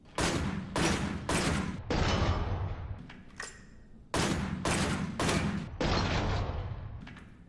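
The Albert 01 pistol in the survival horror game Resident Evil 7 fires in two sets of heavy, booming shots, each ringing out for a moment. A quieter mechanical pause sits between the sets, and the sound is loud and close.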